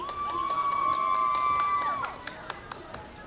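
An outdoor crowd at a jazz dance and pop music performance at the Taipei Lantern Festival cheers and shouts excitedly over a sustained tone. The cheering fades into scattered claps and quieter crowd noise.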